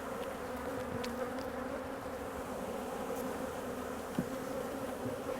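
Honey bees at a hive drone steadily during swarm handling, a dense continuous hum with no gaps, fairly close and even in level, with a faint tap or two.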